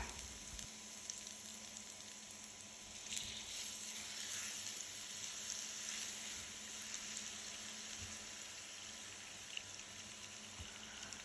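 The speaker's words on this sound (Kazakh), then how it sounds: "Қызып тұрған майдың үстіне чеснок саламыз." Garlic frying in hot oil for a honey and soy sweet and sour chicken sauce, giving a faint, steady sizzling hiss that continues without a break.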